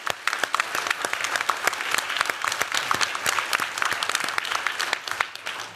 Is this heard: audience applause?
yes